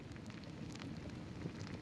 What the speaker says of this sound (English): You didn't say it was going to rain?